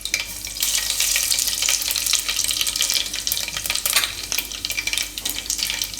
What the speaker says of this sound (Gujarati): તો તેલ આપણું હવે ગરમ થઈ ગયું છે. એમાં આપણે નાખીશું થોડીક રાઈ